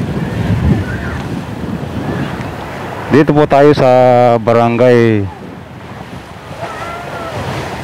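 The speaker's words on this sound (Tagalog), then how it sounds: "Lakas ng hangin ah." Strong wind and surf at Bayanan Baywalk, a waterfront in Barangay Bayanan, Muntinlupa City, with a steady broadband rush of gusts and waves running throughout, partly under someone talking in the middle.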